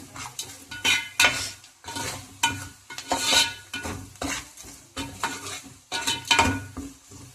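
Dried chillies and garlic fry in hot oil while a spoon scrapes and stirs them, giving repeated bursts of sizzling and clattering against the pan, close and loud, with no talking.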